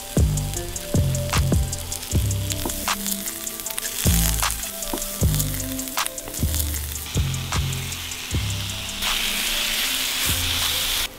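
Kanzler Singles Hot sausages sizzle and fry steadily in a pan, with a dense crackling hiss throughout and repeated sharp knocks and scrapes of a utensil against the pan at close range.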